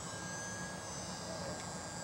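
A UMX Timber RC model airplane flying before sunrise gives a faint, steady electric motor drone throughout, distant and low in level, with a voice talking quietly nearby.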